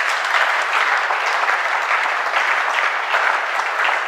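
Church congregation applauding during a worship service, steady dense clapping from many hands throughout, loud and continuous with no voices standing out.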